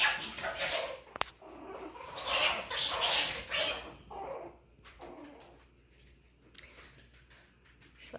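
A Chihuahua puppy yelps and whimpers in short, sharp bursts with a few high whines, fairly close and moderately loud, fading to quieter rustling near the end.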